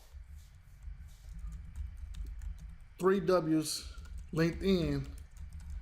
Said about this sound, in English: My typing is super bad this time.